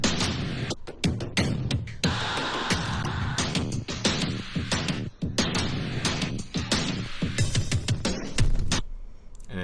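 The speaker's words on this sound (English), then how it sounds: "I have damage coming in, which is like my favorite industrial, ultra compressed, very punchy drum library" Industrial, ultra-compressed drum loops from the Damage library hit hard and punchy in a dense, driving pattern, loud throughout with gritty noise bursts and no voices.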